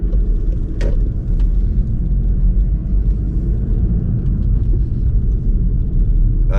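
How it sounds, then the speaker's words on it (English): Low, steady car engine rumble as a car pulls away from the roadside during a driving demonstration, even and continuous, with a brief click near the start. "and I'm driving off."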